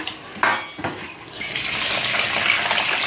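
Water is poured into a pan of bamboo shoot curry as it fries with potato in a hill village kitchen, bringing a rising hiss and sizzle after a couple of metallic clinks of utensils, fairly close.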